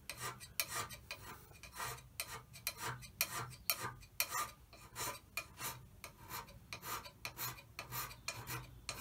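Hand scraping the bearing surface of a lathe bed, taking a light surface cut: a steady rhythm of short, rasping metal strokes, close and fairly quiet, with no voices.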